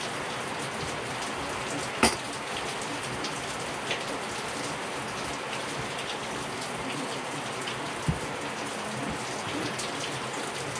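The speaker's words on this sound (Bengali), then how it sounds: "আমাদের ওইদিকে এরকম মুষলধারে বৃষ্টি হয়েছে। হোক গো বৃষ্টি" Heavy torrential rain pours down in a steady, dense hiss, with a couple of brief knocks standing out above the constant downpour; no one speaks.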